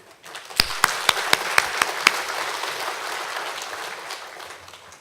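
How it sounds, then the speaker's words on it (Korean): A church congregation at an early-morning revival service applauds to welcome a pastor. A few sharp, loud claps open it, then soft, scattered clapping trails off. "박수로 맞이하겠습니다"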